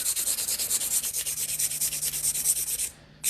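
A nail file works over hard gel nails with quick, even back-and-forth rasping strokes, close and steady, then a brief pause and one more stroke.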